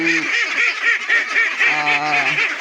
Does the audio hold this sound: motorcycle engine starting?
no